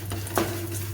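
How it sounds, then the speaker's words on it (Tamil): Urad dal, chana dal and cumin roast in a pan for tomato chutney, making a steady dry sizzle with a faint low hum and one quick scrape of a stirring spoon, close and without speech. "உளுத்தம்பருப்பு, கடலைப்பருப்பு, சீரகம் இந்த 3ஐயும் போட்டு லைட்டாக பொன்னிறமாக வர வரைக்கும் வறுத்து எடுத்துக்கணும்"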